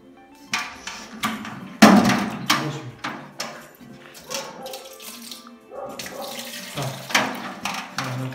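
Water being stirred and mixed into glue in a container while preparing paint, with splashy sloshing strokes, knocks and scraping in uneven bursts, close and fairly loud.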